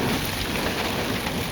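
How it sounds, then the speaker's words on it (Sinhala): Heavy rain pours over a campsite at Kabaragala in Sri Lanka, heard as a loud, unbroken hiss of drops that stays steady for the whole short moment, with no talking. "වැස්ස වැඩි කරා, හුලඟත් වැඩි."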